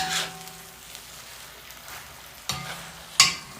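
Breakfast hash stir-frying in a large Lodge cast iron wok: a steady close sizzle with three bright metallic spatula scrapes, one at the start and two near the end.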